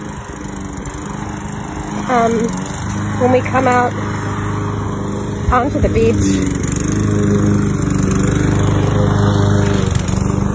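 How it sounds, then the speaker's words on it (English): A lawn mower drones steadily in the background near a beach at Treasure Cay, its engine note rising and falling while a person talks over it. "sorry about the lawnmower."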